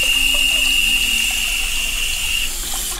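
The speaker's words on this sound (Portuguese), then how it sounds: "Vou ligar agora a torneira aqui para ver como é que ele faz essa captação." Water runs steadily from a bathroom tap, a continuous hissing flow that stays loud and close for the whole stretch with no talking over it.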